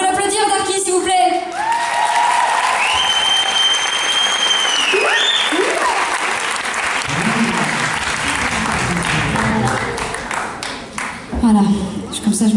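Concert audience applauding a photographer named Darky during a live show in Aix, with clapping and crowd noise filling most of the stretch, tonal sounds and voices mixed in, and a louder burst near the end.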